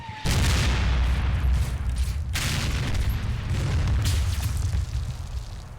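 Sustained barrage of 40 mm grenade fire and explosions in the military strategy game Combat Mission: Shock Force 2, a dense rumbling roar of overlapping blasts with a brief lull before the booms resume, loud and continuous.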